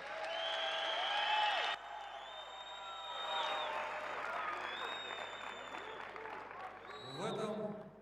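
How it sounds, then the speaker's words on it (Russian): An audience at a BJJ no-gi main event applauds the athletes, with scattered whoops and cheers rising over the clapping while an announcer's voice and music run on top, and a burst of louder noise near the end. "оба спортсмена заслуживают ваших бурных аплодисментов"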